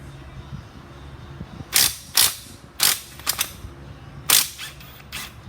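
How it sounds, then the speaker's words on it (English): An impact driver pulls bolts from a Honda CR125 engine during a teardown, giving several sharp, rattling hammering bursts in irregular succession over a quiet workshop background. "Those I think I can take out with my impact driver"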